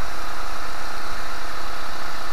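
A Mazda/Ford 1.8L inline-four engine idles in a car just driven off ramps for an oil change, giving a loud, close, steady drone with no pauses and no voices.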